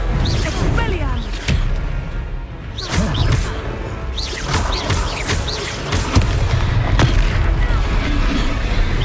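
Expelliarmus disarming spell cast during a duel in Hogwarts Legacy, heard as sharp magical whooshes and heavy booming impacts in a dense, continuous stream of combat effects, with voices speaking over parts of it.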